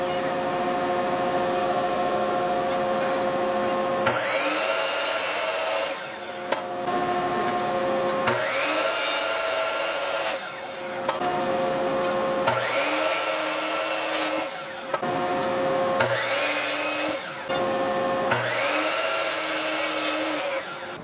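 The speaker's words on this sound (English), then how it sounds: "So I'm going to take and just start cutting at 13¼ to see how many bottle openers that I can get out of this one fence picket." A saw cuts a wooden fence picket in four separate passes, each a loud whining rip lasting a couple of seconds, with the motor humming steadily in between.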